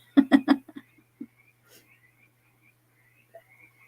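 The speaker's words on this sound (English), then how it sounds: "The window's open over there, and the frogs are going nuts." Frogs croaking outside an open window at night, a few quick rough pulses near the start and a soft call later, faint and somewhat distant over a low steady hum.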